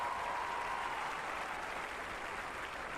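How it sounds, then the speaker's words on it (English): Stadium crowd at Riverbank Arena applauding during a London 2012 Paralympic 7-a-side football semi-final, a dense, steady roar of clapping and cheering that holds at full strength throughout with no break. "Riverbank Arena, give yourselves a round of applause"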